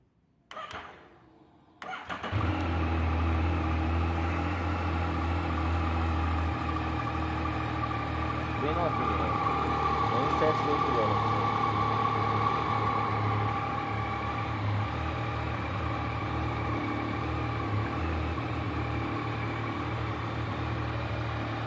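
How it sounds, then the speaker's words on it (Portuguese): A Yamaha four-cylinder motorcycle cranks briefly, then fires and settles into a steady, close idle that continues for about twenty seconds with no talk. "Vamos ligar a moto."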